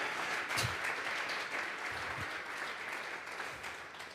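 A church congregation claps during a Sunday service. The applause is steady and sustained, with scattered louder claps throughout.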